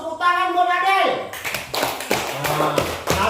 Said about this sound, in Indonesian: tepuk tangan buat Adel